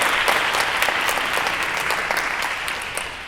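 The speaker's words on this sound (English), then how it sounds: "I think that deserves a round of applause." An audience at the opening plenary panel of an arts conference gives a steady, full round of applause, with crisp individual claps standing out in the mix.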